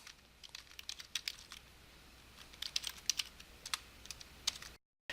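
Quiet keystrokes on a computer keyboard, irregular clusters of light clicks as text is deleted and a label is typed, heard close but faint, with no talking.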